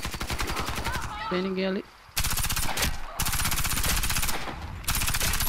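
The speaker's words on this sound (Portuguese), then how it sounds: "Dei dois tirinhos, parei, dei dois, parei, dei dois, parei." Gunfire from a KRISS Super-V in Warface, rattling off as dense rapid shots in short separated bursts, loud and close, with a player speaking briefly between them.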